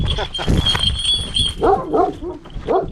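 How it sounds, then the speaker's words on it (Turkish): A Malaklı dog barks in short, fairly close bursts as people talk over and around it outdoors. "Çok güzel bir köpek, güzel yakışıklı bir örnek."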